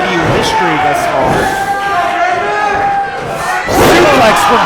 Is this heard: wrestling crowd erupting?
yes